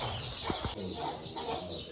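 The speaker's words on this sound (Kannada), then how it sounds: "ಈ ಬಾಕ್ಸ್ ಒಳಗಡೆ ಕೋಳಿ ಐತೆ" A hen inside a box clucks a few times nearby, low and muffled, over a constant background hiss.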